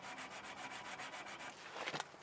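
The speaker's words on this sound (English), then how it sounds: "I'm just gonna take some steel wool and just use it right in here to smooth that out" Steel wool scrubs rust off brake parts on a first-generation Dodge Cummins truck, making faint, rhythmic back-and-forth rubbing strokes that grow briefly louder and harsher near the end.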